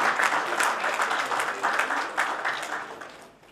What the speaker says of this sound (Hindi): इनका भी जोरदार तालियों से स्वागत तो बनता है